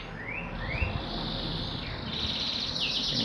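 Young caged birds, two to three months old, give thin rising chirps and short whistled sweeps over a constant insect-like buzzing background, with no one speaking.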